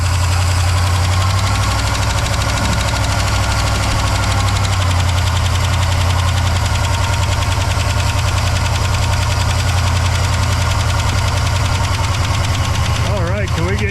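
A 1964 Oldsmobile 98 engine runs steadily and loudly up close, with a constant low throbbing rumble and a faint knocking rhythm that continues throughout before settling toward idle.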